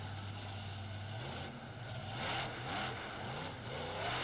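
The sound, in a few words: 5-ton monster truck engine revving during freestyle exhibition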